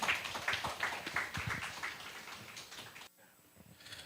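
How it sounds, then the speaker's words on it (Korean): An audience at a diabetes academy lecture applauds to welcome a keynote speaker, a dense wash of clapping that holds for about three seconds before fading out abruptly into quiet. "큰 박수로 환영 부탁드리겠습니다."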